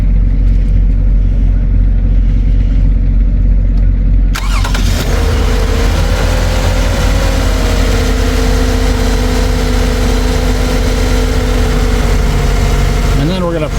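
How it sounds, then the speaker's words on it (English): A car engine cranks and catches about a third of the way in during a battery test, then settles into a steady idle with a slowly shifting tone, loud and close with no talk over it. "it says start the engine"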